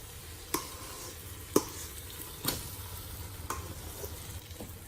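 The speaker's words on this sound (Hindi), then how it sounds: "इसके अंदर मैश किया हुआ शलजम डाल देंगे" Mashed turnip being stirred into a masala curry in a pan over low heat, a soft steady sizzle broken by four or five distinct spoon scrapes and taps spaced about a second apart, quiet, with no talking.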